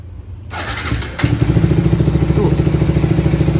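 A Yamaha Vixion R motorcycle engine cranks and starts, then settles into a steady, muffled idle with a regular low pulsing beat from a racing exhaust fitted with a silencer.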